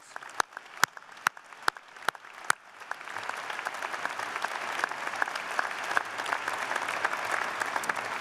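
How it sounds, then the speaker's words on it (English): Commencement audience in a big hall: scattered sharp individual claps at first, quickly building into a full, steady round of applause that continues to the end. "Let's give them a big round of applause."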